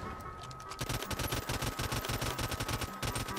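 Rapid automatic gunfire in the battle royale game Realm Royale, a dense, continuous burst of shots running the whole time, loud and steady with no talk over it.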